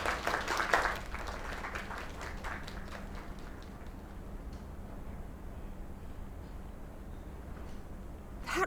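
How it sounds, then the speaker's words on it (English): Applause in the video game Lake, a soft patter of clapping in the opening seconds that fades into a low ambient hum. "Another round of applause."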